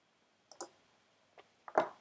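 Computer mouse clicks at a desk: a few faint, sharp separate clicks in quiet surroundings, the last one slightly louder.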